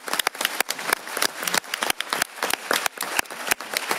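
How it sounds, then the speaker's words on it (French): An audience at a conference on animal protection applauds the speakers, with dense, steady clapping running throughout at a moderate, fairly close level and no voices over it. "on peut à nouveau applaudir tous les orateurs et les intervenants."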